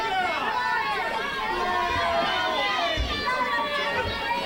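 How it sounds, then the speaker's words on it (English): Wrestling match crowd in an arena, a continuous dense roar of cheering and shouting voices, with thuds from the ring underneath. "Crowd really into this match"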